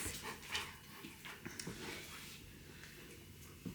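A pet guard dog at a cottage in Pyhä whimpers and pants close by, with soft breathy sniffs and small whines scattered through a few seconds of quiet indoor sound.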